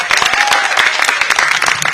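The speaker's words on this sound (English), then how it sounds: "Did you give your principals a round of applause for that?" Close, loud, dense clapping from an audience at a teacher of the year finalists ceremony honoring school principals, sustained throughout with sharp individual claps.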